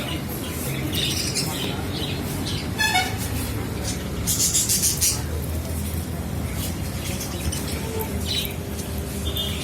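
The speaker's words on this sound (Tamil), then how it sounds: "லவ் பேர்ட்ஸ் கூட இருக்கு அழகழகா." Lovebirds in an aquarium and pet shop squawk in repeated sharp, shrill bursts over a busy background of voices and shop chatter.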